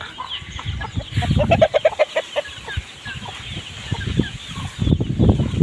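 Young gray fighting-cock roosters sparring playfully, giving rapid strings of close, throaty clucks and short calls in bursts, with soft rustling and scratching around them.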